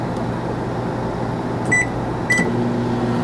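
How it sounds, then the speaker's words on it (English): A microwave oven hums steadily inside a 2014 Itasca Sunova 30A RV, a continuous low drone broken by two short high beeps near the end. "I know how to work the microwave."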